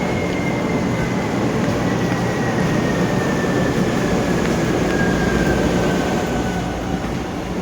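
A train rumbles steadily up close, with a continuous loud roar of wheels on rails and a faint high squeal running through.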